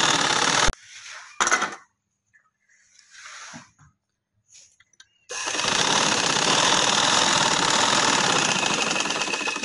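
An electric sewing machine stitching invisible lace onto a garment slit, with two brief bursts, quiet handling in between, then a loud, close, steady whirring run of stitching to the end.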